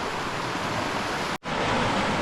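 The Hoh River in Olympic National Park flows past a campsite in a constant, full rushing roar, briefly cut to silence for a moment midway before resuming, with no one speaking.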